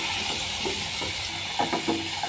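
Onion and chopped tomato sautéing in a pan, giving a steady soft sizzle with a few scraping stirs toward the end, close and alone.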